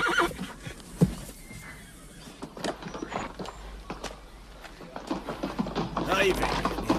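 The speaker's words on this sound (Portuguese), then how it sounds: "É um lindo cavalo, Sr. Richard." A horse whinnies in a dubbed western film, a sharp neigh standing out amid dialogue, with movement and faint hoof or prop sounds around it.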